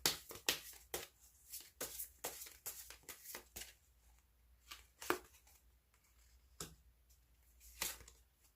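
Tarot cards being shuffled and drawn, with a quick run of crisp riffling slaps in the first few seconds, then sparser single card snaps and flicks, close and fairly quiet with no talking.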